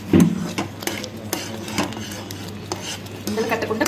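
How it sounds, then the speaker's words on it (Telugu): Motichoor laddu mixture being stirred in a pan with ghee, a spoon scraping and clinking against the metal in a steady, repeated rhythm, with a voice talking over it. "ఒక 2-3 మినిట్స్ దాన్ని బాగా తిప్పుతూ ఉండాలి, ఉండలు కట్టకుండా అలా తిప్పుతూ ఉండాలి."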